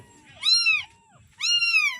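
A cat, a mother that has just given birth, gives two clear, close, drawn-out meows, one after the other with a brief quiet gap between them.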